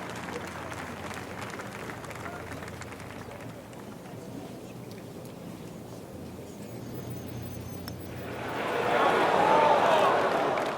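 Crowd applause rises near the end after a bold eagle putt in EA Sports PGA golf, a broad burst of clapping and cheering swelling over a quieter crowd murmur and commentary.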